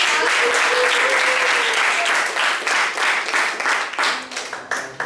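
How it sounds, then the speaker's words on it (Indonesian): Classroom audience applause for a student presentation group: dense, loud clapping from many hands close by, sustained for several seconds before thinning into scattered claps at the end, with some voices underneath. "kita berikan tepuk tangan dulu biar semangat kelompok 1"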